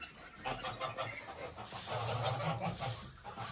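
Geese on a village farm honk in repeated nasal calls, several birds overlapping at moderate distance, with the honking growing busier partway through and no talk.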